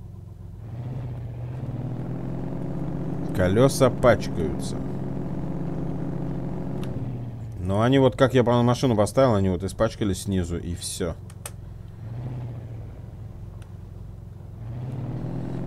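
BMW X6M engine idling and revving in the mud-driving game Spintires: MudRunner, a steady low rumble with two louder surges of revving, heard beneath someone talking throughout.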